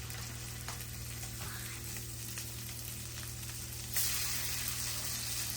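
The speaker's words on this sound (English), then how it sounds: "add our shrimp. Y'all hear that sizzle?" Shrimp sizzle steadily in a hot frying pan, a constant crackling hiss that grows briefly louder near the end.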